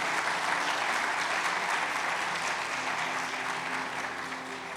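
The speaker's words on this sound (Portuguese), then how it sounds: "Os irmãos estão aplaudindo por tudo também" Warm applause from a church congregation, many hands clapping in a continuous, evenly dense wash that fades gently toward the end.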